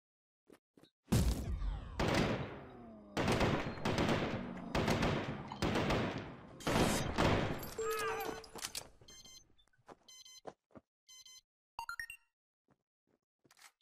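Gunfire in RICO, loud rapid bursts of shots in close repeated volleys with sharp impact thwacks and short electronic beeps, then scattered single shots as the shooting thins out.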